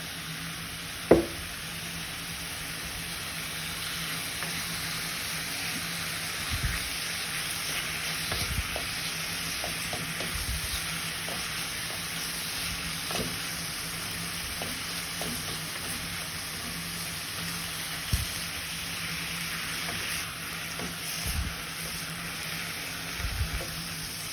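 Minced meat for lasagne frying in a pan, a steady low sizzle throughout with scattered scrapes and taps of a utensil stirring and breaking up the meat.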